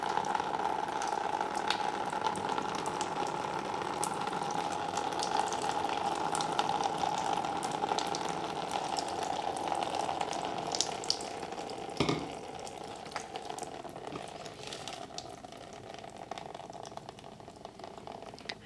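Steady trickling and splashing of water poured through Lechuza Pon substrate in an Alocasia pot, continuous and close, with a brief thump partway through.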